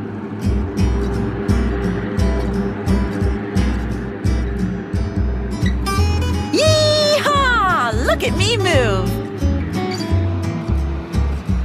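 A loud, steady hovercraft engine drone with rumbling low tones as it runs sideways across water, with a voice speaking over it and brief whistling sweeps.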